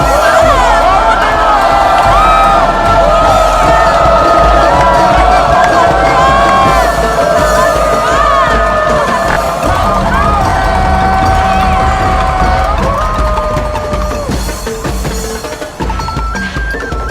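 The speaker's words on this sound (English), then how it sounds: "everyone is waiting for you to scream. Hala Bira!" A festival parade crowd at Dinagyang screams and cheers "Hala Bira", a loud, dense roar of many voices with shrill whoops and shouts that carries on steadily and fades slightly toward the end.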